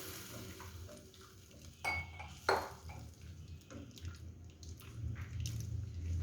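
Chilli chicken sauce thickens in a pan with quiet stirring and a few sharp metal clinks of a spoon against the pan over a low background hum.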